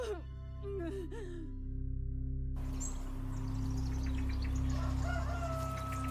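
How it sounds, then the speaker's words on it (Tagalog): A rooster crows at sunrise at close range over a steady low hum, its call drawn out in a strong rising and falling cry, followed by softer fowl clucks and calls. "Pagtilaok ng manok at pagsikat ng araw"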